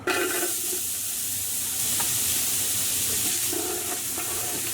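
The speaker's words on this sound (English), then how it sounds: "Once your oil is hot, we're going to add our onions straight in." Onions go into hot oil in a pot for Persian khoresht-e gheimeh, giving a loud, steady sizzle that starts abruptly and continues throughout.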